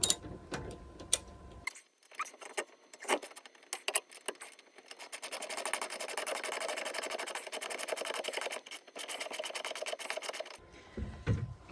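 A ratchet turns a bolt into a satellite dish mount, giving a long run of dense, rapid clicking and rasping mid-range, with brief pauses and a few scattered clicks before and after.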